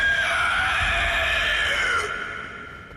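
A beast scream in Elden Ring rings out as a loud, sustained, harmonically rich howl lasting about two seconds over a low rumble, then fades out abruptly.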